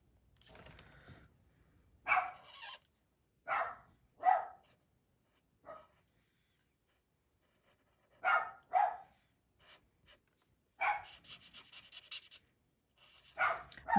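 A pet dog indoors gives a series of scattered, sharp barks and yelps in short bursts separated by quiet gaps, fairly close but not loud.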